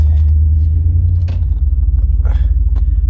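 Truck engine rumbles steadily at close range inside the cab while driving, a loud low drone throughout with faint rattles on top.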